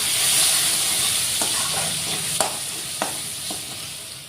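Garlic paste sizzles steadily in a hot pan for thin mung dal, a continuous bright frying hiss with a few sharp spoon taps and scrapes against the pan, no voices.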